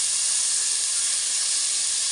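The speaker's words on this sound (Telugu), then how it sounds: "ఇప్పుడు శనగపప్పు వేద్దాం." Chana dal hits hot oil, already frying with ginger and garlic for a brinjal curry, and gives a loud, steady hiss-like sizzle that stays even throughout, with no talking.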